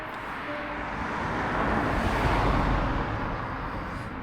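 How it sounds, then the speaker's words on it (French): A car passing near a cemetery at night, its tyre and engine rumble swelling from afar to a peak midway then fading away, steady and alone with no talk. "Attendez, une voiture."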